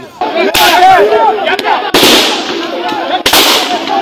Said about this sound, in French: Des coups de feu à balles réelles se font retentir.